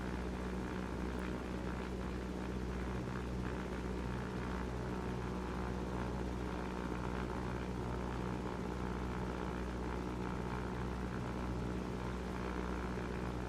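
A small propeller airplane in flight over Hells Canyon during a rescue, its engine droning steadily and loudly throughout with a constant buzzing prop hum and no talk.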